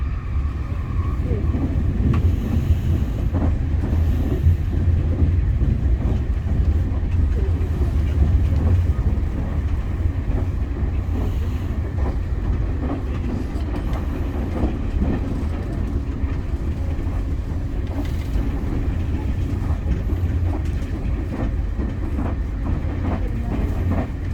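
A train travelling on rails from Osaka to Kansai Airport gives a steady, loud interior rumble with rhythmic clicks over the rail joints throughout, and a voice is faintly audible in places.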